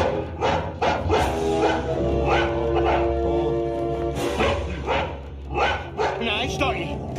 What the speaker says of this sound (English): Nice doggy. Good doggy. Nice doggy. Very good doggy.